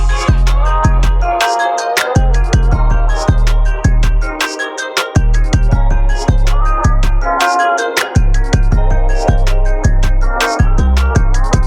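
Full hip hop beat loop with a booming 808, layered keys, crisp drums and a crash marking the start of each loop, loud, dense and continuous with no talk.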